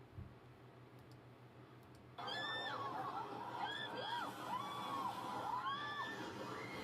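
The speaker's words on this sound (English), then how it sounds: "Why is all this screaming?" Distant crowd noise breaks out suddenly during flooding in Dubai, with high, wavering screams and shrieks rising and falling over a steady rumble.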